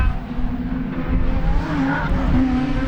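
Race cars at the Sebring 2 hour enduro roar back under green flag racing, a steady dense engine drone with brief tire squeal, heard from a distance without talk.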